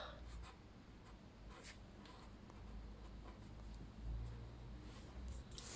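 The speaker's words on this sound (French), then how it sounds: "je vais écrire une petite phrase" A pen or marker writing by hand on paper, a steady soft scratching that runs on through the whole stretch with light strokes, close and fairly quiet, with no voices.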